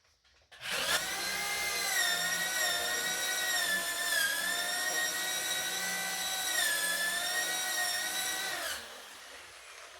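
A high-pitched drill whirs continuously for about eight seconds boring into black oak, steady and fairly close, with slight pitch wavers as it bites, then winds down.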